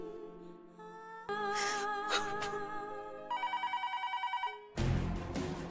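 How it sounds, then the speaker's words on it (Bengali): A home telephone rings in a rapid, evenly pulsed pattern, set within dramatic background music. The ringing gives way to a sudden loud musical swell at the end. "ফোনটা ধরবি, বেজে যাচ্ছে তো"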